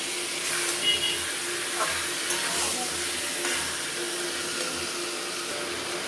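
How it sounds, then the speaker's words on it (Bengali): Shankar fish pieces and potatoes sizzle softly in a pan while a spatula stirs them, a low continuous frying hiss with occasional scraping, heard alone without voices. "শঙ্কর মাছটা একদম লাল এখন আমি কষাচ্ছি"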